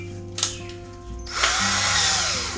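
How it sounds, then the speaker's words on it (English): A power drill with a small bit whirs up, then bites in with a louder high grinding whine as it bores a hole, steady and close. "I figured out this helps a lot drilling these holes"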